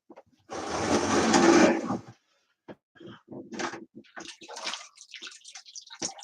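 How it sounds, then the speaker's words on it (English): Running water and a nylon brush scrub a wood-burned fractal piece, a steady rushing wash for about a second and a half followed by scattered short scrubbing and splashing bursts, fairly quiet. "Water and nylon brush, always the best"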